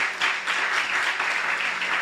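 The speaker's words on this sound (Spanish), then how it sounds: "Dale bien fuerte ese aplauso a nuestro Dios, iglesia" A church congregation claps for God after a prayer, a brief burst of dense, steady applause from many people, fairly close and even with slight pulsing.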